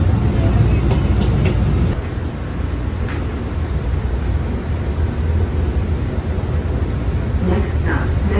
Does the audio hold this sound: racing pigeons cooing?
no